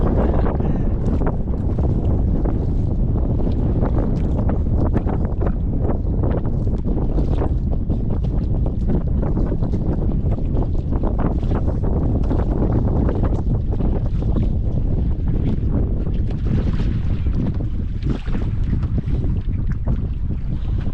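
Strong wind blows at sea on a small fishing boat, a loud, constant roar of buffeting microphone wind and rushing water that fills the whole stretch without a break.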